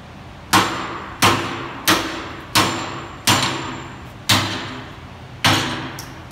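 Seven sharp, evenly spaced strikes ring out on the metal cap of an Irwin steel cap screwdriver, each a loud percussive hit with a short decaying tail.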